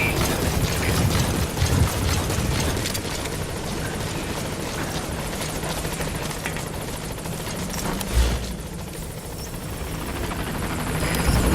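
A support helicopter arrives at a landing zone in Metal Gear Solid V, its rotors a steady, rumbling drone that holds throughout, with a brief thump partway through and no talking.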